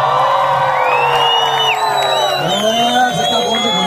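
A large crowd at a church gathering shouts and whoops continuously, loud and near, with voices rising and falling in a dense, sustained roar.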